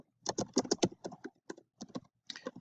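Someone types on a computer keyboard, a brisk run of close, crisp key clicks in uneven clusters with short gaps between them, no voices.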